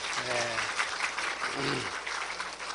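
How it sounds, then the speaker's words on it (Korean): A church congregation claps together in a short burst of applause while a voice speaks over the top. "박수 한번 하시세요"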